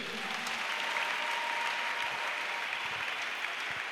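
A church congregation applauds and cheers together during a gospel service, sustained and dense crowd clapping that stays steady and fairly loud throughout.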